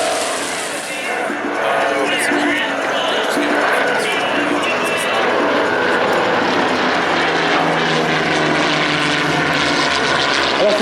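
A 311 propeller airplane with retractable landing gear, weighing just over 5 tonnes, roars past close by at the 2016 Pons air meeting, its engine drone loud and steady for several seconds, with a voice talking over it.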